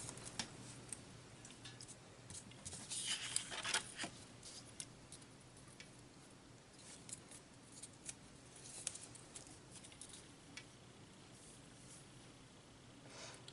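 Faint, quiet snipping and clicking of scissors, scattered irregularly, with a brief louder rustle early on.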